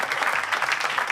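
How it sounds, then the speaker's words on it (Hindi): Short burst of audience clapping at a shayari poetry gathering, a dense, even patter of many hands that holds steady for about a second. "दोस्तों तालियां नहीं रोकनी चाहिए भाई"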